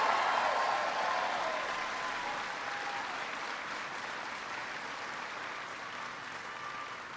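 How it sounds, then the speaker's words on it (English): Sustained audience applause for a senator at a speech at a Ford plant in Liberty, Missouri, a broad crowd of clapping hands that starts loud and slowly fades over several seconds, with no voice on top. "Give Claire a big round of applause."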